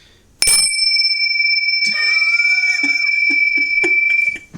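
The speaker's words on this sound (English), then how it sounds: "The bells say yes." A sharp strike opens, then bells ring in quick succession with long sustained tones, followed by several lighter dings, loud and close.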